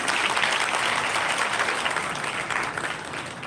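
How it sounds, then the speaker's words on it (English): An audience at an Independence Day school celebration applauds a student performance, with a dense, sustained burst of clapping that holds steady for several seconds and eases slightly near the end. "Let's give them a big round of applause."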